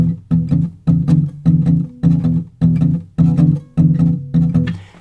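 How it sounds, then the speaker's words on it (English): An electric guitar plays a looping 'long shuffle' blues riff, with steady chugging low notes in a swung, evenly repeating pattern, up close and alone. "This is something called the long shuffle."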